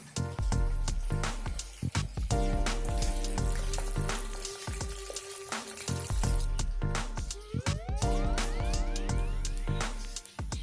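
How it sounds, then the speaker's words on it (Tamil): Urad dal lentils crackle and sizzle steadily in hot oil, with scraping and clinking as a spoon stirs them around the pan, close and continuous. "அதை நல்லா கிண்டி விட்டு வறுத்து எடுத்துக்கணும்."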